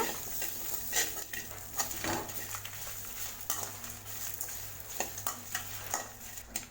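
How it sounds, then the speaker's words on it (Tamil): Grated coconut frying in a pan while being stirred, with a soft steady sizzle and scraping utensil strokes against the metal at an irregular pace. "தேங்காய் துருவல் வந்து நல்லா கோல்டன் ப்ரௌன் கூட வர அளவுக்கு நல்லா வதக்கி விட்டுக்கோங்க"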